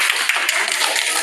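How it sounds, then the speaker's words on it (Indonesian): A classroom group claps for a student group, a brief burst of dense, overlapping applause from several hands, fairly close and steady for about a second. "Tepuk tangan untuk kelompok 1."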